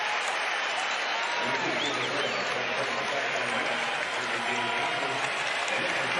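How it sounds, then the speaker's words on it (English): Basketball arena crowd at an Iowa State–Texas game applauding as a player exits, a broad steady roar of clapping and cheering mixed with a low crowd hum, loud and continuous throughout. "Big round of applause."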